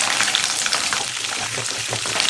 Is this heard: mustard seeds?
yes